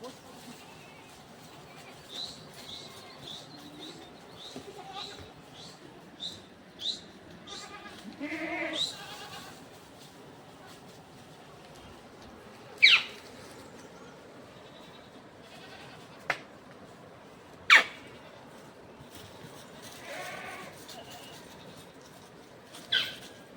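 A flock of sheep and goats herded by Gaddi shepherds in the high Himalayas, around Lahaul-Spiti, bleats in scattered calls over a low outdoor murmur, with a few sharp, close cries standing out among fainter distant ones.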